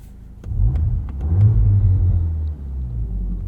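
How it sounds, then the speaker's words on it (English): A 2023 Volkswagen Golf R manual, 20th Anniversary Edition, revs up with a loud, raspy exhaust burble that swells and dips over a few seconds, heard close from inside the car. "It's a zesty exhaust."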